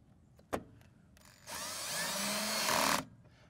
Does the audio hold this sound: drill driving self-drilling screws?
yes